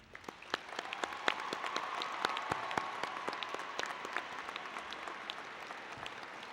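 Applause from a graduation commencement audience, a dense steady patter of many hands clapping at a distance, sustained and even throughout with no voices over it.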